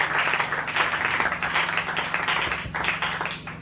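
A church congregation applauding and cheering during an evangelist's sermon, a loud sustained wash of clapping that swells and dips slightly throughout.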